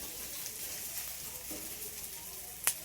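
Onion frying in oil for a spicy okra and potato dish gives a faint, steady sizzle, with a soft stir and one brief clink near the end.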